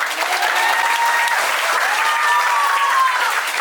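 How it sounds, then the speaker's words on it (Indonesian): Children at an English and character camp in Bekasi applaud loudly and continuously, a dense, bright burst of clapping with cheering voices riding over it throughout. "tepuk tangan buat kalian semua yang meriah"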